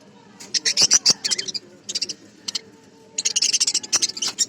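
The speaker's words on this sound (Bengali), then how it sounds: "কি সুন্দর না পাখিগুলো," Several birds chirp and tweet in a calm outdoor spot, with bursts of quick, high chattering calls fairly close by, separated by short pauses.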